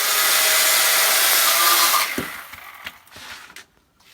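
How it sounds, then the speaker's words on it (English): Bandsaw cutting a round from a log, a loud steady high whine for two seconds that stops abruptly, followed by quieter knocks and shuffling handling sounds. "I can get it on a bandsaw, and I'll show you how I cut a nice round out"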